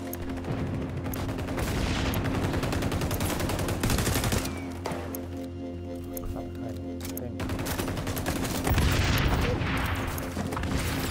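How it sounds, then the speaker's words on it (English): Gunfire and grenade explosions in the XDefiant shooter game form dense, loud bursts of rapid shots and booms across the whole stretch, with game voice announcements mixed underneath. "Throwing a grenade!"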